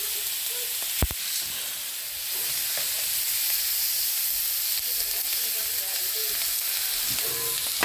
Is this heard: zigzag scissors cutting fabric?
no